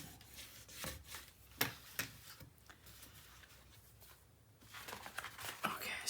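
Paper is burnished down by hand onto a scrapbook mini album page, making quiet, close, repeated rubbing and scraping strokes in short irregular bursts.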